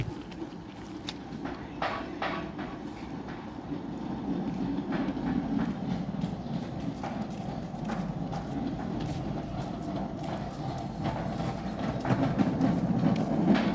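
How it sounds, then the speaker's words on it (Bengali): A rail track inspection vehicle rolls along a railway line, a steady low rumble with scattered rhythmic clicks and knocks that grows slightly louder toward the end, with no voices. "ওই যে লাইন চেক দেওয়ার জন্য ট্রেনের লাইন চেক দিচ্ছে"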